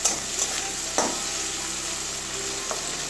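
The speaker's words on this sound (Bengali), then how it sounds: "মিডিয়াম আছে ভাজছি।" Bitter gourd and potato pieces fry in a pan over medium heat, a continuous even sizzle with a couple of sharp stirring taps near the start.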